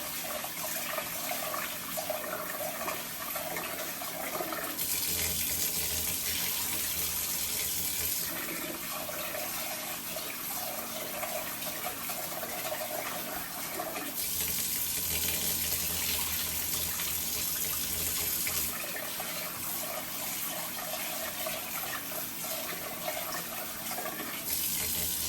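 Food rinsed several times under a running kitchen tap, a steady rushing stream of water that swells and eases in bursts, close and continuous throughout with no talk.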